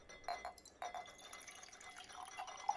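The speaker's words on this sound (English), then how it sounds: "And I'm going to pour 125 mils of this." Saturated calcium hydroxide solution is poured into a jar: a few soft liquid splashes and faint glassy clinks, quiet and close, with no talking.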